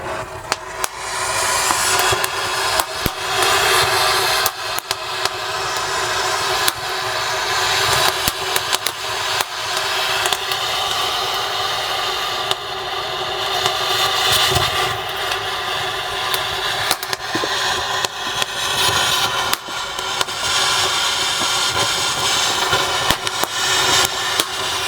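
A long fountain firework burns inside a well, giving a loud, continuous roaring hiss with dense crackle for about twenty-five seconds, close and steady without letup.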